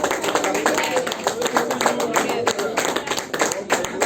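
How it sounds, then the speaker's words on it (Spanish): A church congregation claps together in a dense, steady stream of hand claps, with voices mixed into the loud crowd sound throughout. "Denle un aplauso al Señor, gloria a Dios."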